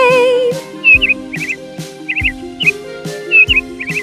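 Bright bird chirps and quick tweets come in short repeated bursts over a gentle musical backing, loud and close, in a storybook scene of a healed bird taking flight.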